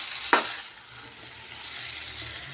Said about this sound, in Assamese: আৰু খুব ভালদৰে মই এইদৰে লৰাই ল'ম।